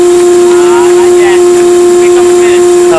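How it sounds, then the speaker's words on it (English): Steam whistle of a 1922 Stanley Steamer car blowing one steady, loud, unbroken tone for the full length, with a faint hiss underneath. "Got enough pressure for the whistle?"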